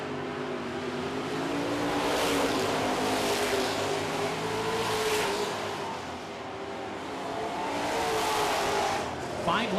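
Super trucks roar around a short oval track in a heat race, engines droning and rising in pitch as they pass, with an announcer talking over the steady din.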